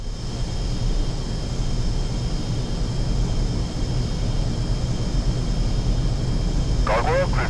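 A jet aircraft in the combat flight game Energy Airforce aimStrike rolls into takeoff, its engine a steady, loud broadband roar that holds evenly throughout, with a brief chirping blip near the end.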